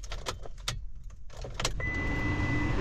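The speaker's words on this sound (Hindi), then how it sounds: "इसलिए थोड़ी सी खिड़की में ओपन कर देता हूँ।" A car's power window winds open, a steady electric motor whir rising after a few clicks and rustles inside the vehicle, close and moderately loud.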